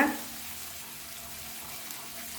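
Curd hits a hot pan and is stirred in, producing a steady sizzling hiss that follows a brief louder splash at the start.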